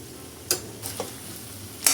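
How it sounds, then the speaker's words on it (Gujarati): A spoon scrapes through a pan of dry spiced potato bhaji with cumin-coriander powder and Kashmiri red chilli, making a few short, sharp scraping strokes over a soft background sizzle. "એડ કરી અને ફરીથી પ્રોપર મિક્સ કરી દઈશું"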